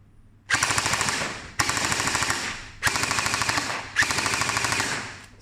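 MST AKS-74U gel blaster firing on full auto, four sustained bursts of rapid, moderately paced mechanical cracks, each lasting about a second with short gaps between, loud and close.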